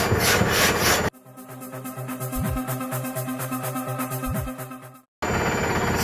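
A garden tool is sharpened with a file, a close, rhythmic metallic rasping of repeated even strokes running steadily for several seconds between noisier stretches.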